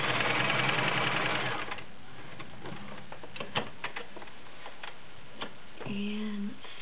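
A White Model 999 convertible flat bed/free arm sewing machine runs with a fast, steady mechanical whir for under two seconds, then stops, leaving scattered faint ticks and clicks and a brief hum near the end.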